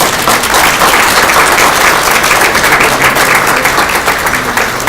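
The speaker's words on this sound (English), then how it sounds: "Let's have a round of applause." Steady, loud audience applause at a luncheon event honoring Dr. Jonas Salk in his centenary year; dense crowd clapping continues without pause for the whole stretch.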